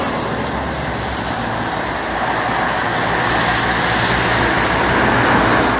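Steady road traffic passes nearby as cars roll by, forming a continuous broad roar that swells slightly toward the end, with no voices over it.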